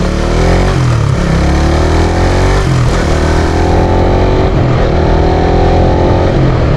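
A motorcycle engine revving up and down through gear shifts with rev matching, loud and close, with repeated rising pitch sweeps as the throttle blips between gears.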